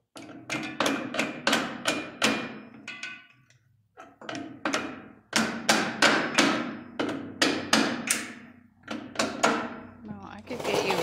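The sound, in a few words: hammering on a homemade rolloff rear axle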